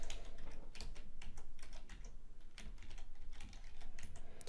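Rapid, steady keystrokes on a computer keyboard as an email address is entered during an Amazon account sign-up, close and continuous with no voices.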